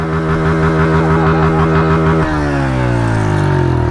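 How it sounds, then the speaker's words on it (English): A Honda CRF125 pit bike engine with stock exhaust idles and revs close by with a throaty, pulsing exhaust note that settles into a lower, steadier rumble. "CRF 125S stock exhaust."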